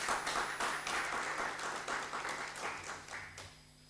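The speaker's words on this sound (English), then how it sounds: "Please give a round of applause for Professor Bhaskar Basu." Conference audience applause for a plenary speaker, a steady, moderately distant patter of many hands clapping that tapers off toward the end.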